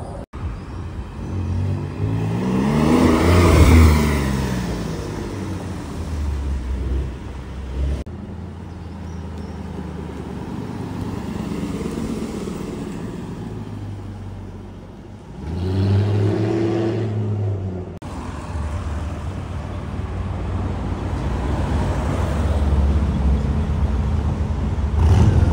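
A McLaren 720S and a Ferrari 488 Pista drive past in a small group, engines swelling and fading in several passes, with one loud rising rev near the start and another strong pass midway.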